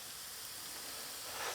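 Hash browns frying loosely spread in olive oil give off a soft, continuous hiss of sizzle and steam, quiet and even, swelling slightly at the end with no talking over it.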